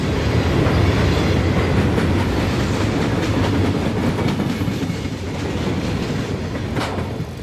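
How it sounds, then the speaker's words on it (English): A Conrail train of empty coal hoppers rolls past on a busy mainline, loud continuous rumble with rhythmic clickety-clack of wheels over rail joints, fading slightly toward the end. "The empty hoppers are headed back to the coal fields on the south end of the mainline."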